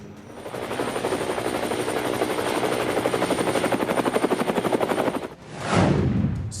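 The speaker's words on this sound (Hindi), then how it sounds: "अपने आप में इस हेलीकॉप्टर की खूबी देखिए, पीछे की तरफ फ्लाई कर रहा है।" A Prachand helicopter flies backwards during an Aero India 2023 air show in Bengaluru, its rotor chopping in a loud, steady rhythmic thud. Near the end the sound swells and sweeps downward as the aircraft passes close by.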